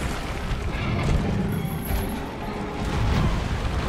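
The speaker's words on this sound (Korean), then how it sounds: "폭발은 예술이지." Continuous explosive rumbling from a Behemoth battle in Monster Hunter: World, loud, dense booms rolling on for several seconds with a slight swell midway and again near the end.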